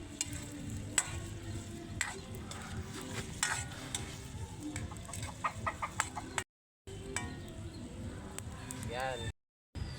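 Mung bean stew with sardines is stirred in a sizzling pot with steady scraping and clinks, while chickens cluck nearby and a person talks.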